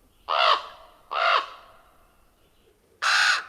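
Three loud, harsh caws from an American crow, two in quick succession and a third after a pause, close and clear with no other sounds.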